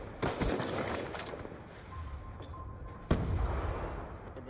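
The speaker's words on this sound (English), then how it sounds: "Oh my god, I'm getting shot by every fucking direction." Gunfire in a free-for-all video game shooter, a burst of rapid shots at the start followed by scattered, quieter reports and one sharp crack later, set against game ambience.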